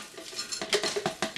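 Ice cubes tumble into a Ninja Foodi blender jar for chocolate ice cream, a quick series of hard clinks and rattles building over a second or so, close and fairly loud with no talking.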